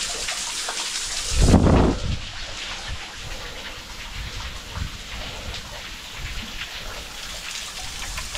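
Rain pours at the Kapareshwar Mahadev temple near Igatpuri, a dense steady hiss of drops on surfaces with a louder rushing swell near the start, and no voices.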